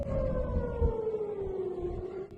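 A steady wailing air-raid siren drones on during rocket fire from Lebanon, slowly sliding downward in pitch, over low background rumble.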